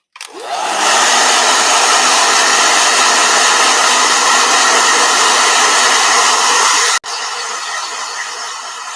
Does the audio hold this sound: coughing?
no